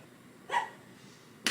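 A dog gives two short, sharp barks about a second apart, fairly close in an otherwise quiet indoor room.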